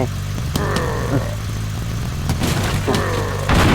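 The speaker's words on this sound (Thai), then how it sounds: "ระเบิด" Several sharp blasts go off among the running car engine sounds in the Earn To Die zombie-driving video game, each burst followed by falling debris-like tones over a steady engine drone.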